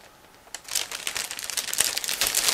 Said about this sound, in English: I'll get this plastic bag outside. It is a resealable plastic bag.